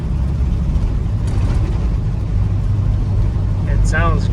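A 1975 International 200 pickup truck on its first drive after being found in a field, with a steady low engine and road rumble heard from inside the cab and a voice speaking over it.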